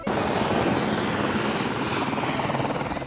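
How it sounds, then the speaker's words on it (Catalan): A helicopter carrying royal visitors arrives over an Olympic site in Terrassa, its rotor and engine roar loud, steady and continuous, with no voices. "L'arribada de Ses Majestats en helicòpter a la zona olímpica en commemoració dels 25 anys dels Jocs Olímpics."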